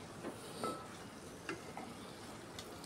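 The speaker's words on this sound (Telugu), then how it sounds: "ఒకసారి కలుపుకుని మూత పెట్టేసి మగ్గనిస్తానండి." A drumstick and tomato curry cooking in oil in a pan is stirred with a spoon, giving a low steady sizzle broken by a few light scraping and clinking taps and no voices.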